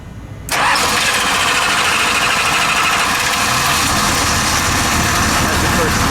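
A 1977 Chrysler Newport St. Regis cranks briefly and fires, then settles into a loud, steady idle that runs without a break, with voices talking over the engine.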